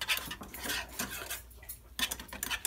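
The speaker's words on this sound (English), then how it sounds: "we are just going to stir it over low heat until it thickens" A spoon stirs flour glue in a pot over low heat, giving close clinking and scraping of utensil against the pot in quick irregular bursts, with a short pause midway and no speech.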